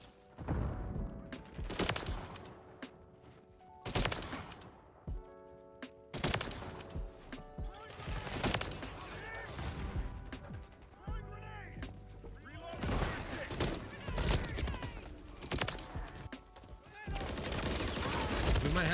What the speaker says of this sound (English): It's automatic pistols.